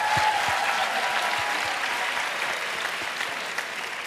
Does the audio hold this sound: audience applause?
yes